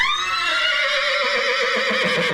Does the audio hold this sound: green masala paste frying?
no